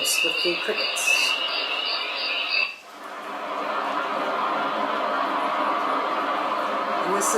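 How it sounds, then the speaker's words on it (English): Summer-woods cricket ambience from a Bluetooth alarm-clock speaker, a steady chirring bed with scattered high chirps running continuously after a short break from a preceding tonal sound. "And the summer woods with the crickets."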